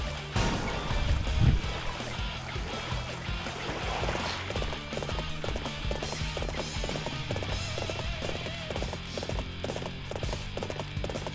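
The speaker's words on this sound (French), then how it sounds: "vous pouvez constater que je me promène dans l'eau avec le cheval." Horse hooves in the Dynasty Warriors 7 video game splash and clop through water in a steady, quick walking rhythm, loud and continuous over a busy, noisy battle background.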